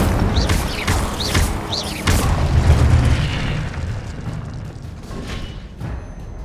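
Incendio fire spells cast in the video game Hogwarts Legacy, a series of booming fiery bursts with sharp whooshing cracks, several in quick succession early on and then a rolling rumble that gradually fades, with no voices.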